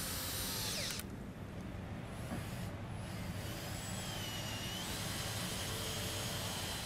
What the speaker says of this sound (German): Hier ist ganz wichtig, dass wir vorbohren.